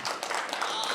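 Audience in a hall bursts into brief, dense applause with scattered cheers at a live stage show, a close, continuous wash of clapping filling the full second.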